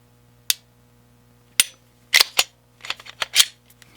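Sharp, dry mechanical clicks of a pistol trigger being dry-fired and reset, isolated crisp snaps followed by a quick cluster of lighter clicks, close and alone against a faint hum.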